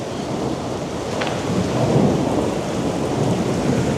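Heavy rain with hail during a storm, a loud dense roar of water pouring and pattering on surfaces with a low rumbling swell in the middle, steady throughout and without talk.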